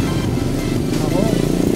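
A motorcycle engine drones steadily along a road on the route to Arayat, Pampanga, fairly close and continuous while people talk over it.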